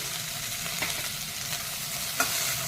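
Chicken frying in oil in a pan as chili powder goes in, a steady low sizzle with a few soft scraping stirs, close and fairly quiet with no talking.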